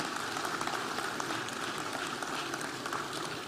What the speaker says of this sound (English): You have to clap again. This clap is not enough.